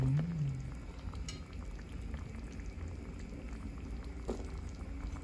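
Chicken afritada with carrots simmering in a pot, a soft, steady bubbling boil with faint popping, quiet and close, without talk.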